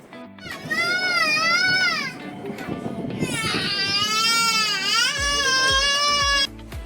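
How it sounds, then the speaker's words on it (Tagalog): A young child cries loudly in wailing, rising and falling bursts for nearly the whole stretch, close by in a busy indoor food court, with a brief pause partway before the crying resumes. "Ingay ng bata."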